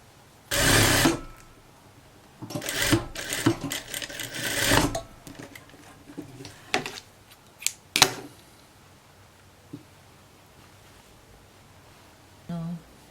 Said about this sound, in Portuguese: Aí passa a costura.